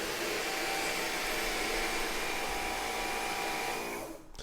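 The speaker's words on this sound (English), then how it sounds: "as we go over more dirt, you'll hear the suction power increase and go back down" A Dyson Gen 5 Detect cordless vacuum cleaner runs steadily at close range, a loud continuous whirring whine that holds level for about four seconds and then dips and fades at the end, with no talk.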